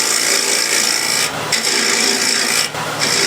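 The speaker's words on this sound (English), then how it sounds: "Nice and gently, and with a bigger scraper" A large hand scraper drawn gently across wood while cleaning up a small keepsake box, giving a continuous close raspy scraping with two brief pauses between strokes; no talking.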